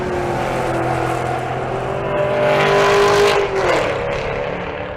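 A Camaro race car launching down the drag strip at Bandimere, its engine note rising in a loud, steady climb of revs, swelling to a peak as it pulls away, then dropping as the tone shifts with distance.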